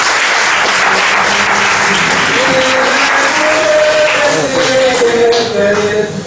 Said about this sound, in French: je vous demanderai de l'applaudir très très fort